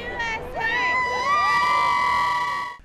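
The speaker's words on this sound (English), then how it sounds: "thousands of people poured into the streets outside the White House and in New York City, waving US flags and cheering" A large crowd cheers and shouts in the streets outside the White House and in New York City, celebrating with whoops and excited voices; the dense, continuous roar holds steady for a few seconds, then cuts off abruptly.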